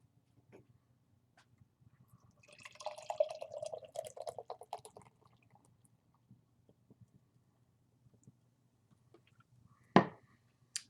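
Irish extra stout, aged in Jameson casks, is poured into a glass: a short glugging, splashing pour of a couple of seconds, then quiet fizz and a single sharp knock near the end.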